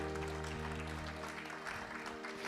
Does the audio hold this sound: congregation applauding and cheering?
yes